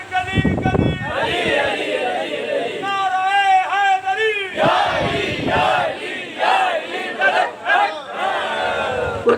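At a Muharram religious gathering in Faisalabad, a large crowd chants religious slogans in loud, drawn-out unison, alternating with a lead voice calling out lines over a hall's reverberation.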